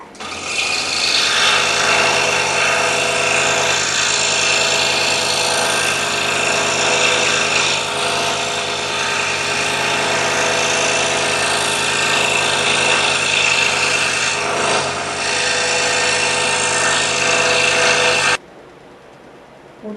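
Scroll saw cutting wood pieces for a scrolled bowl, a loud, steady, close buzzing rasp of the reciprocating blade that runs without pause before stopping abruptly near the end.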